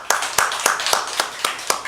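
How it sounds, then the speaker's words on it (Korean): A steady run of sharp, evenly spaced claps, about seven in two seconds, close and fairly loud with no voices over them. "그 야곱에게 박수 한번 쳐드릴까요"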